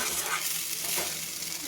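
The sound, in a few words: stirring sugar into sago in a pan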